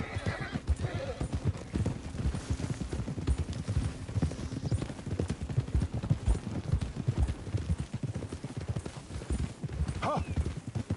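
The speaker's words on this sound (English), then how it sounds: "Get a hold of that horse, will you?" Horse hooves clip-clop steadily and close by on ground in Red Dead Redemption 2, with a horse neighing near the end and faint background sounds throughout.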